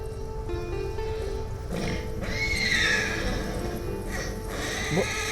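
A horse gives a loud, wavering neigh over a steady background rumble, with some hoof clopping and scuffing nearby.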